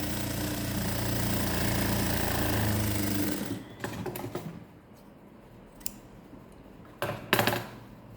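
A sewing machine stitches a Patiala pant, running in a steady, busy whir for several seconds, then falling quiet with only a few short clicks and bursts as the fabric is handled.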